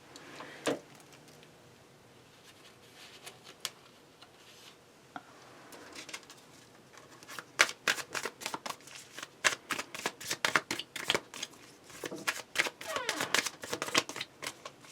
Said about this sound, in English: I probably won't be able to show that I'm shuffling anymore.